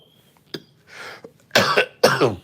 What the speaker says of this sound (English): I'm sorry for me coughing